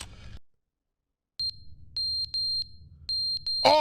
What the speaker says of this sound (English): Oh, the beeping! Oh God, wait, I can't even stop it! Oh, that's so loud!